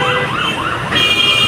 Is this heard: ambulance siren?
yes